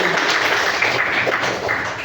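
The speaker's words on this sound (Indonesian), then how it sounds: "Tepuk tangan untuk Fahri." A crowd applauds steadily, a dense wash of clapping that holds at an even, fairly loud level throughout.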